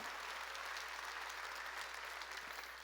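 A church congregation breaks into applause during a sermon, a dense, even wash of clapping heard from some distance, fairly quiet and continuous throughout.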